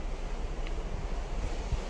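Steady, rushing wind buffets the microphone aboard a cruise ship at sea in fog, with a broad low roar like surf or open water beneath it and no voices.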